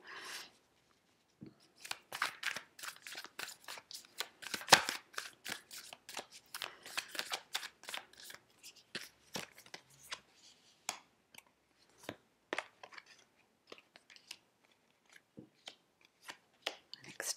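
Tarot cards being shuffled and drawn, giving a rapid series of crisp flicks and slaps close by, fairly quiet, with scattered single card snaps and brief pauses, no speech.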